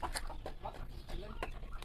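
Frizzle chickens in a backyard pecking at feed, giving soft scattered clucks and brief calls at close range over a low background murmur.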